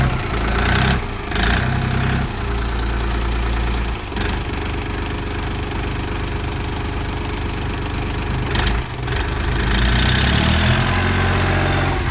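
A Belarus 320.4 mini tractor's engine running steadily close by, a loud continuous diesel rumble with a knocking idle that dips briefly a few times and swells toward the end.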